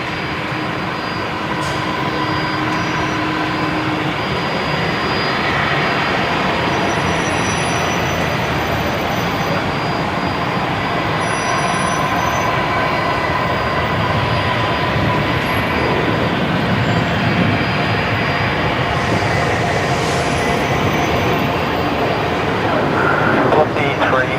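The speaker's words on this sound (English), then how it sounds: "Next aircraft to depart is Qantas 633 off to Melbourne." A Qantas jet bound for Melbourne departs Brisbane Airport from runway 19 left, heard as a constant, broad, distant engine roar that stays level throughout, with faint tonal whines above it and no talking.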